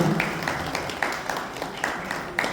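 Applause from the gathering at a 20 Kumaon Regiment foundation day celebration in Haldwani, a continuous clapping wash with a few sharper claps standing out, voices faintly mixed in.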